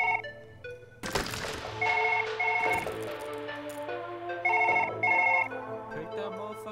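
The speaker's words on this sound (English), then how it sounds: "phone." A telephone rings in repeated electronic double trills, close and fairly loud, after a sharp thump at the start, with a low steady hum beneath.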